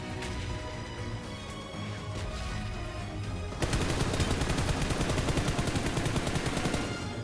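Gunfire in the mobile battle royale game BGMI: rapid automatic bursts crackle loudly, first more scattered, then a dense sustained volley of shots for the last half.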